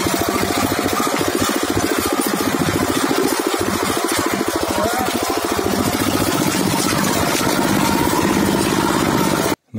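An old Zarya 8 hp walk-behind tractor engine runs steadily and loudly close by, a continuous chugging drone on a trip along forest roads, cutting off abruptly at the end.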